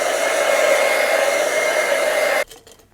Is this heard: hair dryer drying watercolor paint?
yes